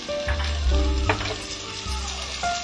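Cabbage fries with spring onion in oil in a pan, producing a loud, continuous close sizzle with low rumbling hum and occasional stirring scrapes.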